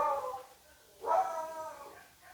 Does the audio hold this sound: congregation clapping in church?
no